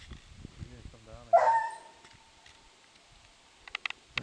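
A hunting dog gives a short burst of barks and yelps outdoors, fairly close, with faint voices and brief clatter afterward.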